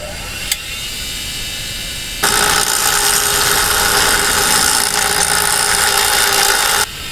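A power grinder smooths metal on a Cadillac engine during a carburetor swap, a steady high-pitched whine starting after a faint buzzing lead-in and running for several seconds before cutting off abruptly.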